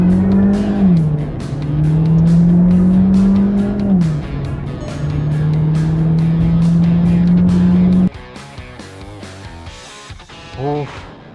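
A Volkswagen Virtus with a 1.5-litre TSI engine accelerates hard from standstill toward 100 km/h, engine note rising steadily through gear changes, loud and close, then cutting off abruptly near the end.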